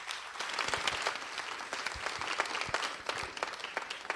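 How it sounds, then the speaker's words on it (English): Steady applause from a large crowd at the National Theatre of Ghana during a beauty pageant, dense overlapping claps sustained at an even level throughout with no voices standing out. "Shall we give them a solemn applause, please?"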